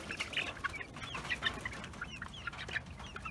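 Rhode Island Red and Longhorn chickens cluck softly nearby in a barnyard flock. Short, overlapping clucks and murmurs run continuously over a low background rustle, with no talk.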